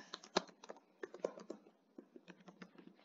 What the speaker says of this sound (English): So I typed that in